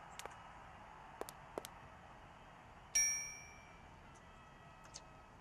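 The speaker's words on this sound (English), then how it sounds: "we have to go ring the bell and get his attention" A bell rung once in the point-and-click adventure game Syberia gives a single bright metallic clang that rings out and fades over a couple of seconds, with faint small clicks before it.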